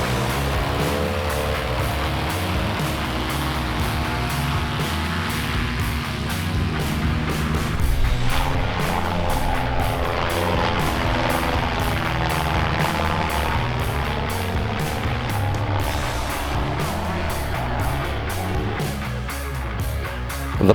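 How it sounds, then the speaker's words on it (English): The Breezy, an open-cockpit propeller airplane flown by pilot Doug Libby, drones loudly and steadily, its engine and propeller roar with rushing wind noise filling the whole stretch, close and unbroken. "The aircraft is called the Breezy"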